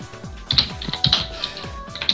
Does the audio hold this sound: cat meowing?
no